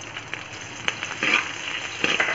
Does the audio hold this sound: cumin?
yes